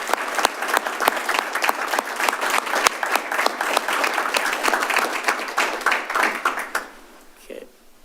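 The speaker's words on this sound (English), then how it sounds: "I would ask we all give him a round of applause for" Sustained audience applause at a city council meeting honouring a late colleague's service, dense steady clapping from a roomful of people for several seconds before fading out near the end.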